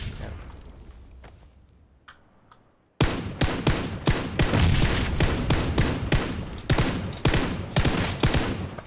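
Dense, loud gunfire from the battle-royale video game PUBG erupts abruptly after about three seconds of quiet, continuing as rapid overlapping shots and bursts through the rest of the clip.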